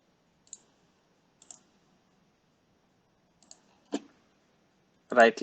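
A computer mouse clicks a few times while editing in Photoshop, sharp isolated clicks spaced a second or more apart in a quiet room, followed by a brief spoken word at the end.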